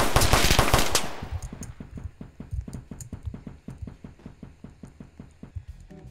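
Roblox gunfire in a Bronx roleplay game, starting with a loud, dense burst that drops into a long run of rapid, evenly spaced shots, steady and fairly close.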